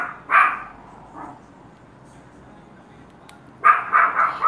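A pet dog barks loudly nearby: one sharp bark, then a softer one, a pause, and a cluster of quick barks at the end.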